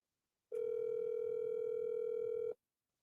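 A steady telephone dial tone sounds alone for about two seconds, starting and stopping abruptly with no voices over it.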